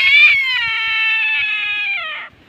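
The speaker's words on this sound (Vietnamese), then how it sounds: "Sao mà con này nó kêu to thế nhỉ? Như con mèo á." An Asian palm civet caught in a trap lets out one loud, sustained cat-like wail lasting about two seconds, close by, over faint rustling.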